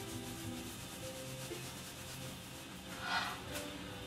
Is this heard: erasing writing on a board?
yes